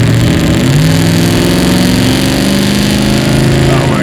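A custom widebody Dodge TRX built to 1,300 horsepower, with a Southern hot rod built transmission, revs loud and close in a sustained roar, with rising engine tones throughout.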